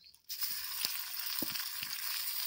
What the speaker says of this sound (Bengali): খুব বেশি নাড়ার দরকার নেই, একটু হালকা মতো এটা আমি নেড়ে নেব।